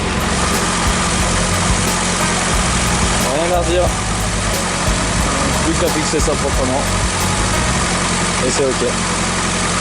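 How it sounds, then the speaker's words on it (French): Drift car engine idling steadily at close range, a constant mid-pitched throb with faint vibration, while someone talks over it. "tout est ok, le moteur tourne bien."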